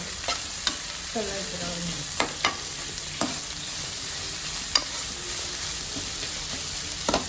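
Onions frying in a pan, a steady low sizzle with occasional stirring scrapes and clinks, with someone speaking briefly over it.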